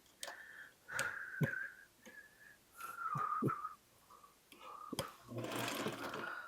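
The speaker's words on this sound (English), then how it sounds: "You're going to go across sewing in rows, right?" Sewing machine stitching quilt blocks in rows, running in short bursts of a few seconds each with pauses between, the whirring needle close and clear, with faint ticks and handling noises around the stops.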